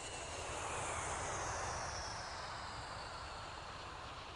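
Passenger airplane, a steady broad roar of jet engines at constant loudness, continuous and without voices.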